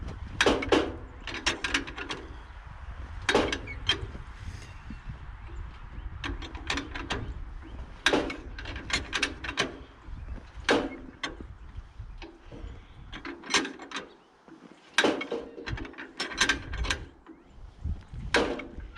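Hand crank turning over the cold engine of a 1948 John Deere M tractor, giving a steady series of sharp mechanical clicks and clunks in an even rhythm, close by with no talking.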